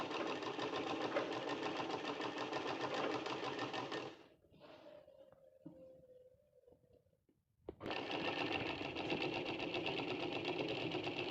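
Sewing machine stitching a long frock, running in a fast, steady whir for about four seconds, falling quiet briefly with faint handling noises, then starting again at full speed, close and loud.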